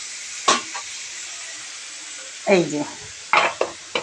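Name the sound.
chicken stew with ginger paste being sautéed and stirred in pan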